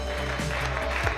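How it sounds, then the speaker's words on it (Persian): Audience applause at a Shootball match, a dense burst of clapping heard briefly and fairly loud, with a hum of voices beneath it. "تشویق."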